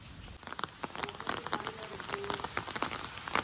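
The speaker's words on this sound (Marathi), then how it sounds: "सकाळपासून असाच पाऊस पडतोय कंटिन्यू पाऊस कंटिन्यू पाऊस मुसळधार पाऊस" Continuous heavy monsoon rain in the Konkan countryside near a flooded river, a dense patter of drops hitting surfaces close by that grows louder after a brief opening lull.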